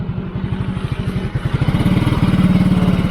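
Close, loud idle of a motorcycle engine with a Takayama cast-iron cylinder block, its pulsing beat unsteady as the revs drift up and then sag, with no talking.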